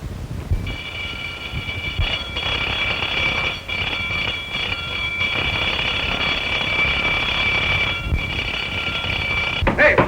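An alarm bell rings loud and continuously for several seconds, a sustained shrill metallic ringing that carries on without pause over a faint background rumble.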